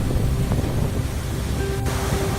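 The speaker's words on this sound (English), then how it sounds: "But there's no marching rhythm in the motion of waves." Ocean waves wash in a steady, continuous roar of surf, broad and unbroken with no distinct break, heard alone without any voices.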